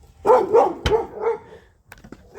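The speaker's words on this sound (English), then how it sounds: "Apologize for the neighbor's dogs, can't do much about that." A neighbor's dogs bark nearby in an outdoor backyard setting, several loud barks in quick succession followed by a few fainter yips and whimpers.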